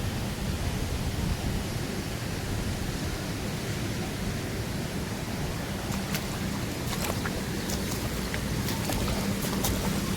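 Heavy rain and wind sweep across a flooded village in a dense, continuous roar of broadband noise, steady and enveloping from start to finish, with a few faint sharp ticks near the end and no speech.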